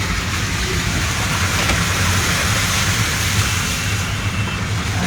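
Heavy rain pours at Bhavnath near Girnar in Junagadh, a dense, steady hiss that stays constant and fills the surroundings for the whole stretch.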